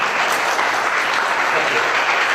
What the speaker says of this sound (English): Applause for Rowan.